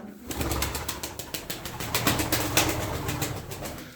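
Tumbler pigeons in a loft, with soft cooing and brisk bursts of wing flapping, fairly faint and close, with no talk.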